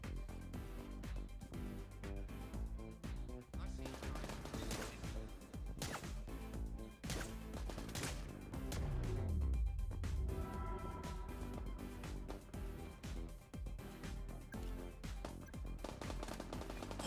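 Gunfire in the shooter game Get Even: continuous rapid shots with heavy recoil crack over a dense game score, steady and close, with a low sweeping tone partway through.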